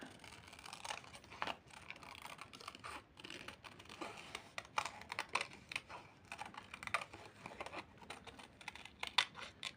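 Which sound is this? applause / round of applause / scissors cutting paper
scissors cutting paper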